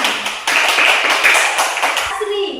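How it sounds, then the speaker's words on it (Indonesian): Classroom applause breaks out in a mathematics lesson, a dense patter of many hands clapping steadily for about two seconds before fading into quieter room noise. "Oke, tepuk tangan."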